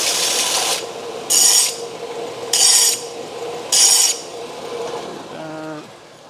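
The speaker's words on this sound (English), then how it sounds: "I can just deburr this." Metal intake pipe on a DA9 Integra deburred by hand, a rasping filing sound in steady close strokes with three louder, brighter scraping bursts, then a brief tonal ring at the end.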